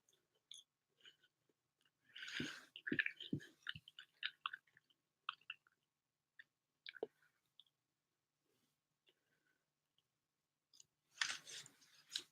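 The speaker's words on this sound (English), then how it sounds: "I have fries with me today, so I'm going to be munching on them." Someone munches on fries at close range, with bursts of crunchy, wet chewing and small clicks coming in clusters and pauses, no talking.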